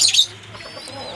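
A racing pigeon coos softly in a loft during rain just before it is released, a brief low murmur heard up close after a short bright burst of noise.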